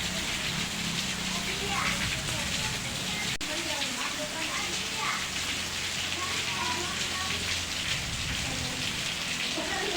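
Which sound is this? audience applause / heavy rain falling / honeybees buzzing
heavy rain falling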